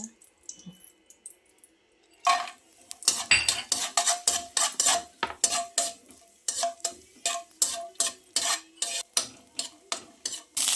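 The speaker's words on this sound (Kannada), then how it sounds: "ಈಗ ಮೊದಲಿಗೆ ತುಪ್ಪದಲ್ಲಿ ಗೋಡಂಬಿ ದ್ರಾಕ್ಷಿ ಫ್ರೈ ಮಾಡ್ಕೋಬೇಕು" Cashews and raisins frying in ghee in a pan for bottle gourd halwa, heard as a steady run of sharp metallic spoon scrapes and clinks against the pan, repeating rhythmically and close up over a faint sizzle.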